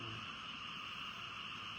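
Frogs croak around a cemetery at a Thai temple, forming a dense, steady chorus of faint, shrill calls with no pauses.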